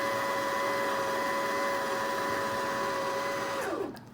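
Sewing machine motor winding a bobbin, a steady close whir with a constant mechanical tone for several seconds before spinning down and stopping.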